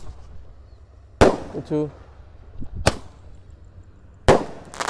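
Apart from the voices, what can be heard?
firecrackers exploding in a hole in the ground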